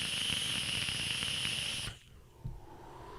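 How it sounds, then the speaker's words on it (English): A vape coil, an M-Turk coil in an Argus with a Reload RTA, hisses and crackles steadily for about two seconds with a high whine, then stops abruptly, followed by a faint click. "That is an M-Turk coil in there and is crackling like a GD rattlesnake."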